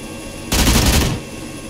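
A short, loud burst of rapid gunfire in the ArmA military game cuts in abruptly, lasts about half a second over steady background ambience, then stops sharply.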